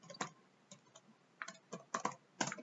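Keys on a computer keyboard tap in short irregular bursts, a few quick clicks at a time with brief pauses, close and quiet in an otherwise still room.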